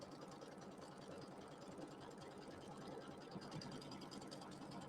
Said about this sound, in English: So it's going to go around that twice, so you have a little better stitching to trim to.